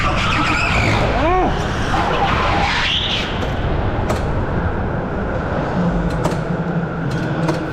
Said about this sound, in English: Yes, I've just spun my car and I've just turned it off.